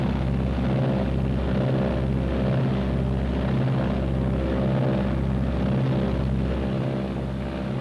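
Twin engines of a Martin B-26 bomber run up together to about 1,800 RPM, a loud steady droning roar with a regular pulsing beat throughout, no voices over it.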